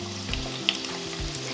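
Onion pakora frying in hot oil in a fryer, a dense close sizzle and bubbling with a couple of faint ticks and clinks, continuous over a short span with no voices.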